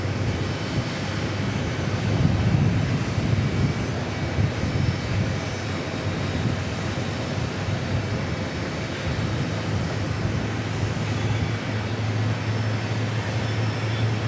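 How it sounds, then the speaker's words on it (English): A United Airlines airliner approaches Phoenix Sky Harbor, its engines giving a steady, broad roar that holds at an even level for the whole stretch, with no talking. "United Airlines making its way towards us"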